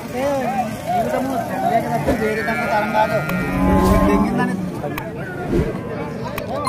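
Bulls at the weekly Wednesday cattle market in Punganur low and moo repeatedly, close and loud, over steady talk and market chatter.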